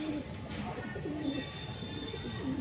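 A sick, weakened pigeon with a lump in its mouth coos softly in low, repeated murmuring phrases close by, against a quiet background hum.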